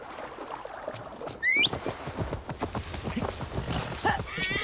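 Horse hooves clip-clop in a steady gallop rhythm across the Assassin's Creed Valhalla game world, close and clear, with a whinny-like squeal near the start and a voice talking over the hoofbeats.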